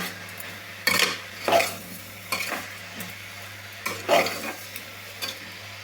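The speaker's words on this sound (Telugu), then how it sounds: "నూనెలో ఒక్కసారి మడుకు మగ్గించుకుందామండి" Bean pieces sautéing in oil in a pan, a low sizzle broken by several distinct stirring clinks and scrapes of a utensil against the metal, close and without talk.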